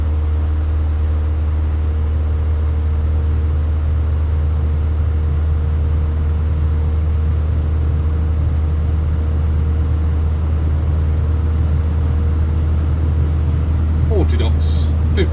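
A Piper Tomahawk light aircraft engine at full takeoff power in a flight simulator, holding a loud, steady drone throughout the takeoff roll, with a brief clatter near the end.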